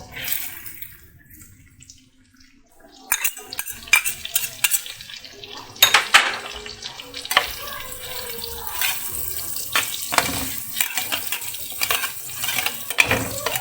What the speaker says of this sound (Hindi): अब हम इसके अंदर प्याज डालेंगे